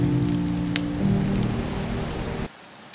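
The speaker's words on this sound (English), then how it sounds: "It just keeps on raining" Steady rain pattering hard on a surface with a constant hiss and a low hum underneath, dropping off abruptly near the end.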